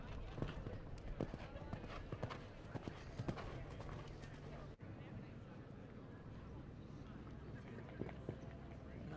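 A 9-year-old Irish sport horse mare, Electric Lux, show jumping at a 2019 Ocala eventing competition, with rhythmic thudding hoofbeats on course, most distinct early on, under a talking voice and outdoor ambience.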